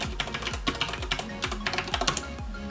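Rapid typing on a computer keyboard while setting up a headless Raspberry Pi 4 with Kali Linux: close, crisp key clicks in quick irregular bursts with a few heavier strokes, no talking.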